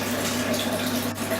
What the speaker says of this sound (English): So I'm going to pour some water